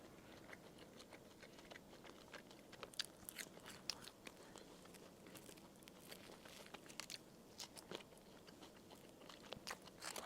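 Squid ink bread bitten and chewed close to the mic, quiet irregular crunches and soft mouth sounds in a steady pattern, with a sharp knock at the very end.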